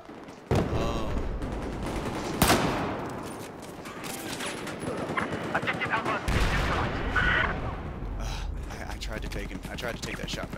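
Gunfire in Battlefield 4: a loud sudden burst opens the scene, followed by more shots and a second heavy report, with continuous battle noise and rattling fire carrying on close by and loud throughout.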